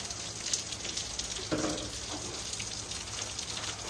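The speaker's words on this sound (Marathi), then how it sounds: "नको बाबा पाऊस नाही जाऊ" Rain falls steadily as a soft, continuous patter, with a brief louder burst around the middle, quiet and fairly close.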